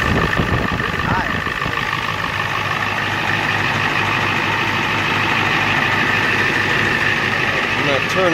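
Ford 6.9/7.3 IDI diesel truck engine idling steadily, a close, continuous rattling drone with even knocking rhythm throughout, with a voice talking over it.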